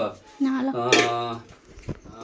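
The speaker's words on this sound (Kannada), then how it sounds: "ಪಾತ್ರೆ ಇದಕ್ಕೆ ಯಾವುದೋ ಒಂದು ಸೂಟ್ ಆಗುವಂಥದ್ದು ಒಂದು ಪಾತ್ರೆ ತಗೋತೀನಿ" A metal cooking pot is picked up and handled for making jasmine idli, giving a couple of clear ringing clanks close by, mixed with a voice in a home kitchen.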